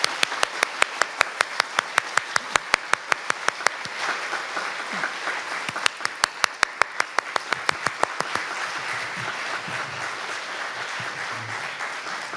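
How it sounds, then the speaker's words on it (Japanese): At a symposium counting down to the Tokyo 2025 World Athletics Championships, an indoor audience applauds warmly for several seconds, with crisp, rapid individual claps prominent at first and a denser, more blended clapping continuing. "大きな拍手をお送りください"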